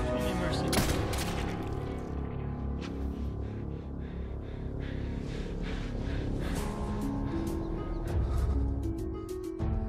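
Gunfire from a Fear the Walking Dead scene, in which a man is shot in the head: dense, continuous volleys of shots and booms lasting about ten seconds, loud and chaotic.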